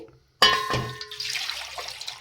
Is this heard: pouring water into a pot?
yes